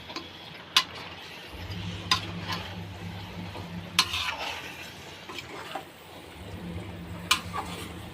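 Chicken stirred in a pressure cooker, a soft sizzle with a low hum and periodic sharp metal clinks of the spoon against the cooker every second or two, no talking.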